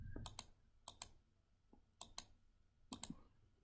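Computer mouse clicks while someone edits a weaving draft in Windows software, in close, crisp pairs of sharp clicks spaced about a second apart in a quiet room.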